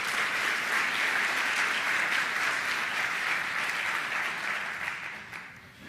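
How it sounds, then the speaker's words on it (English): Sustained applause from a panel audience welcoming speakers onto a stage, steady and full for several seconds before tapering off at the end. "please, a round of applause for our other speakers, Troy and Mike, who have joined us on the stage."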